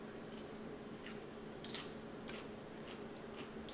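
Paper-thin slices of fresh fennel cut on a mandoline, heard as a few crisp, close slicing crunches and scrapes spaced irregularly over a steady low background hum.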